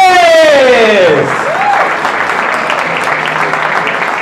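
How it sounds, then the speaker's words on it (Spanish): A comedy show audience in Mexico City applauds loudly and steadily, the clapping filling the room right after a voice over the speakers trails off, with scattered cheers mixed in. "Fuerte aplauso a toda la gente que estamos aquí"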